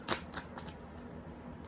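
Tarot cards are drawn from a deck, giving a few soft, quick papery flicks and slides, close and quiet over faint background noise.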